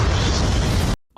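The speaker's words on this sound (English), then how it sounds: "Who wants to see a big explosion?" A big explosion from The Fantastic Four: First Steps film, a loud dense roaring blast that fills the whole clip and then cuts off abruptly into silence.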